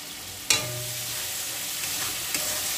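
Cashews and poppy seed paste hit a pan of cooked spices and soft tomatoes, giving a sharp clatter followed by a steady sizzling hiss and a second light knock near the end.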